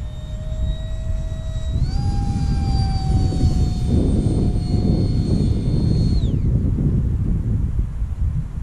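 An F-22 Raptor RC electric ducted fan jet, 4s 64mm EDF, flies past with a high whining turbine-like tone that rises, holds, then drops away, over loud steady wind rumble.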